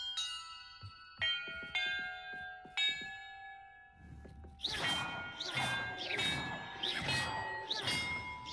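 Bells in Hogwarts Legacy ring out: a few spaced, clear tolls ringing and sustaining, followed by a faster, louder run of clanging chimes that overlap one another.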